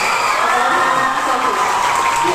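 Scientists at mission control during the Chandrayaan-3 lunar landing break into a burst of clapping, cheering and whoops, a continuous excited crowd roar with a voice talking over it.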